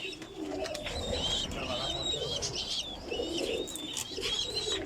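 Pigeons coo and warble inside a large loft shed, with soft overlapping calls and chirps repeating steadily over a low background murmur.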